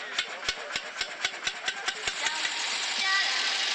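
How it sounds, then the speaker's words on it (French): A 1910 Zèbre car engine turns over with a quick, even series of sharp knocks, then the beats blur into a steady, building mechanical roar as it catches and runs. "On commence à amorcer le moteur."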